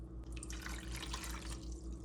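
Cold water pours steadily into a container for a gelatin recipe, a close, continuous trickling splash with a faint low hum underneath and no speech.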